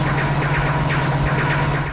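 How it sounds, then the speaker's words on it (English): Kart boost effect in the Wacky Races video game restarting over and over, a rapid stuttering whoosh that keeps cutting off and retriggering over a steady engine drone. "That's the sound of me desperately trying to use my boost and the game resetting the sound effect over and over"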